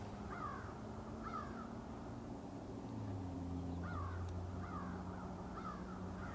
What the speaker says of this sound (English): The most interesting thing, of course, is the birds at this time of the day.